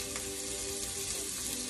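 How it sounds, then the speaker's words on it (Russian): Carrots frying in a pan for Korean kimbap, a steady close sizzle and crackle throughout, with no talk. "Морковь жарим недолго."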